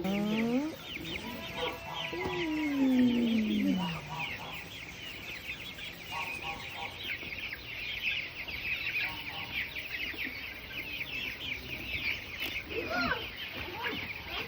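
Chickens cluck and crow close by at a petting zoo, with a rooster-like call early on and steady clucking throughout, over a busy background of other birds and faint voices.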